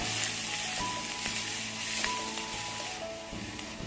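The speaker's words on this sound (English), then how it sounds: "So we have to cook them on high flame because we want the onions to be golden brown." Onions with ginger garlic paste frying over a high flame, a loud continuous sizzle with a few clicks from stirring and no voices.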